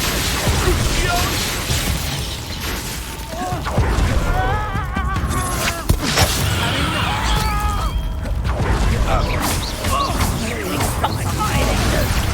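Confringo fire spell cast in Hogwarts Legacy combat, a dense barrage of blasts, crashes and impacts over continuous game noise, with voices shouting throughout.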